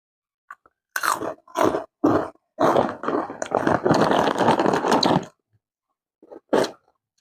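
Someone eats spicy Thai papaya salad with rice noodles and crunchy pork rinds, making loud, close, wet chewing and crunching bursts in an uneven rhythm, then a pause and one final bite.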